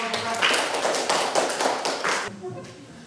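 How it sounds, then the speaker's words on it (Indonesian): A classroom claps for a student group, with a close, fairly loud patter of hand claps and light taps that continues for about two and a half seconds, then drops off quickly. "Tepuk tangan untuk kelompok 1."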